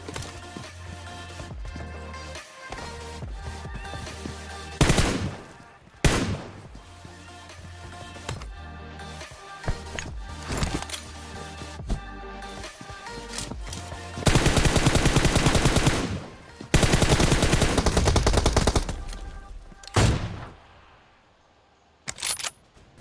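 Gunfire in the battle royale game PUBG: single sharp shots, then sustained bursts of automatic fire, loud and near, separated by quieter in-game ambience.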